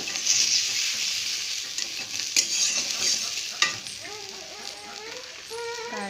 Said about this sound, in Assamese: দি এতিয়া এইখিনি আকৌ এবাৰ মই লৰাই দিম।